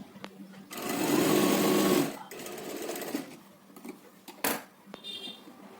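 A sewing machine stitches fabric for a decorative neckline in a loud, steady mechanical whir lasting about a second, followed by quieter handling clicks and a sharp clack up close.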